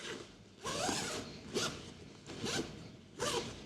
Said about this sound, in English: And zip right up.